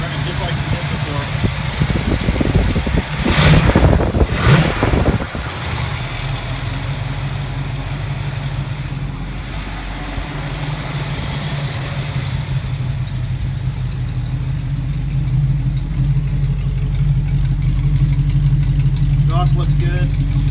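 A Plymouth Duster 360 V8 engine with a noisy lifter idles with a steady low rumble, briefly louder and rougher early on, then settling into an even, continuous hum.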